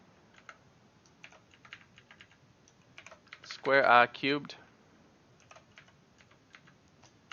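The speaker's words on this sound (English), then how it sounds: "You have to be real careful typing in a big mess like this." Keys clatter in a short dense burst of rapid typing on a computer keyboard while working through a long algebraic expression, close and fairly loud, with a quiet voice speaking before and after.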